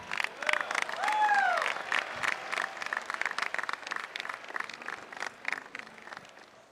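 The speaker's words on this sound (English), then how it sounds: "Please give a round of applause for the West Point Band." A large outdoor crowd at a West Point military academy graduation ceremony applauds the West Point Band. The steady clapping carries a swell of cheering and a whistle early on, then thins toward the end.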